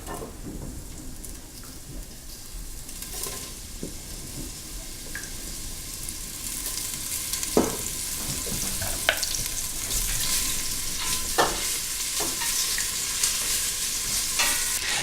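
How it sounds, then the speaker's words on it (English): Beef pieces browning in a stew pot, a steady close sizzle with scattered sharp crackles and pops and occasional scrapes of stirring throughout. "Now that we've finished sauteing off the beef"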